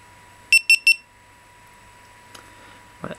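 A GoPro HD Hero camera gives three quick, bright electronic beeps in an even rhythm as it switches on, followed by a faint click and a little handling noise at the end.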